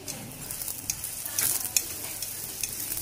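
Ghee sizzles on a paratha frying in a pan, a close, steady crackling hiss with a few brief louder spatters and stirring scrapes partway through, no voices.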